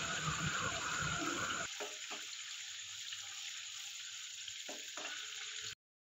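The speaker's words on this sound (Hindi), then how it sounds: "1 बाय 1 करके मैं सारे कोफ्ते ऐड करूँगी और इनको जो है लाइट ब्राउन होने तक फ्राई करूँगी" Koftas deep-frying in hot oil, a dense steady sizzle that drops to a quieter bubbling hiss partway through, with a couple of faint knocks before cutting off abruptly.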